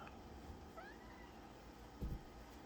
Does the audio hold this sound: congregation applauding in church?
no